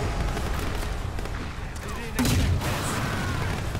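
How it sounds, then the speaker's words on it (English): Grenade launcher fire in the video game Sleeping Dogs: a burst of booming shots and blasts under constant game noise, with a heavier impact thump partway through while someone talks over it. "Grenade launcher"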